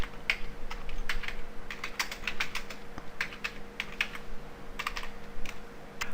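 Quick irregular keystrokes on a computer keyboard, typing code in Notepad, sound close and moderately quiet over a faint steady background hum.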